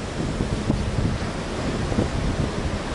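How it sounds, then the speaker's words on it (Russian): Stormy sea and strong wind on the shore at Iveron monastery on Mount Athos in the early morning: a steady, dense roar of surf and gusting wind fills the scene, with no voices. "И посмотрите, какой сегодня шторм."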